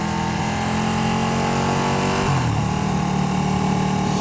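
A Ducati 1299 Panigale S with its stock exhaust idles close by, a loud, steady mechanical drone with a slight dip in pitch partway through.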